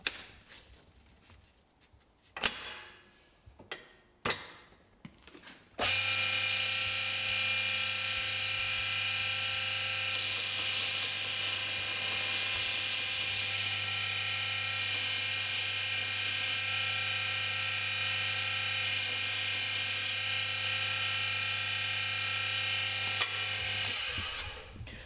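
Hammer head being sanded and polished with finer abrasive grit, a steady high whirring hiss running for about eighteen seconds after a few short scrapes and knocks, close and moderately loud.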